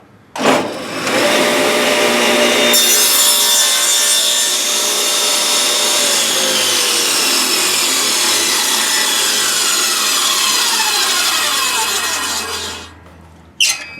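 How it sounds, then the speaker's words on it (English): A table saw cuts a 3/8 by 3/8 inch rabbet in an oak frame piece, a loud, close, continuous whine with the blade biting into the wood for about ten seconds before the motor is shut off and spins down. "I only went part way through it and then shut the table saw off."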